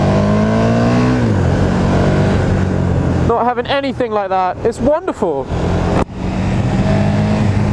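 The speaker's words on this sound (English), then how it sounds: "Listen to that glorious engine." A 2017 KTM 1290 Super Duke R with a 1300cc V-twin and stock muffler rides in first gear, its engine note sliding lower and then holding a steady, loud drone while a rider talks over it.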